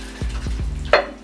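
Diced canned tomatoes go into a hot pan for lentil dahl, giving a close stirring, sizzling clatter with a brief sharper splash near the end.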